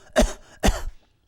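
Two close, forceful coughs about half a second apart, each a short harsh burst followed by quiet.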